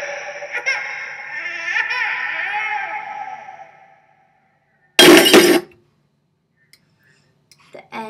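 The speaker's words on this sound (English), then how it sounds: "The end, this crash glass effect," A loud, sharp glass crash sound effect bursts out on its own after a stretch of dialogue, standing well above the surrounding film-scene audio before trailing into near silence with a few faint ticks.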